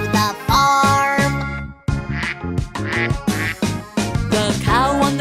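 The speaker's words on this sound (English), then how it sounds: "The duck on the bus goes quack, quack, quack" Repeated cartoon duck quacks ring out in a bright children's animal song about a farm bus, loud and rhythmic over bouncy music with sung melody.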